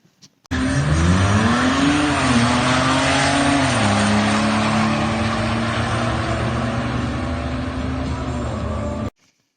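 A turbocharged car on stock turbo size with no added fuel or nitrous launches hard in a drag racing run, its engine roaring loud and close as the pitch climbs through gear changes for several seconds before cutting off.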